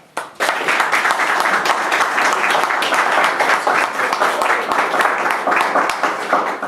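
A room full of people applauds steadily, dense clapping filling several seconds at close range with a few faint voices mixed in.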